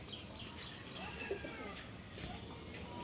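Pigeons kept at a home loft coo faintly in soft, low murmurs beneath a steady hiss of background noise, and a few brief chirps are scattered through the short stretch.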